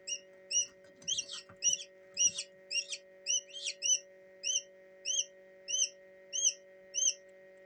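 Heritage Black Jersey Giant chickens give a regular series of short, clear clucks and chirps close by, with a brief scuffle of rustling near the start.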